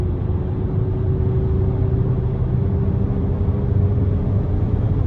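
Inside a 2024 Cadillac XT6 Luxury AWD with its 2.0-litre turbo engine, a steady, muffled low drone and road rumble hold under gentle acceleration, even and moderate throughout.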